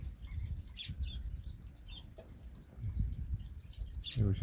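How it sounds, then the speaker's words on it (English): Soft, high chirps and thin whistling notes from a parrot finch come in scattered bursts over a low, rumbling background. "That's the parrot finch there."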